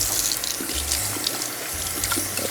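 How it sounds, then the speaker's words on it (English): Water runs from a kitchen sink tap while a bowl is being filled for injera batter, a steady close rushing splash with small gurgling shifts and no voices. "I'm gonna add more water from the sink."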